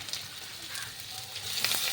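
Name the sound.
potatoes frying in oil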